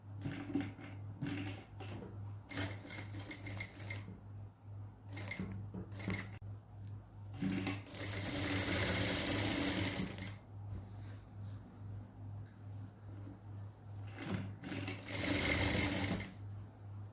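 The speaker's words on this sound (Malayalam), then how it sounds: "ഇതേ ഷേപ്പിൽ തന്നെ നമുക്കൊന്നുകൂടെ സ്റ്റിച്ച് ചെയ്തെടുക്കാം." Sewing machine stitching fabric pieces for straight pants, running in short bursts with rapid needle chatter and two longer loud runs over a steady motor hum, close up.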